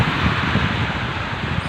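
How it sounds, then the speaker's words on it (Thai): Strong wind and heavy rain from a typhoon in Taiwan roar as a constant, dense rushing hiss, loud and close with steady buffeting and no voices. "ตอนนี้ฝนตกแล้วนะครับที่ไต้หวันกำลังลมเม็ดหนักเลยครับ"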